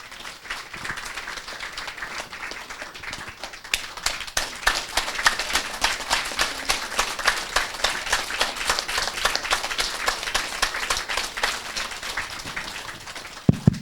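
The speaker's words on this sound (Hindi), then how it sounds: "हम एक बार जोरदार ताली बजाएंगे सभी लोग।" A room of about fifty people at a Sunday spiritual gathering claps loudly together, the sharp dense claps building quickly into steady, energetic applause that fills the space with no talking.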